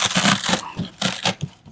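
Styrofoam is crunched and wedged into a Christmas tree container in several quick, close squeaky crunches that come in uneven bursts.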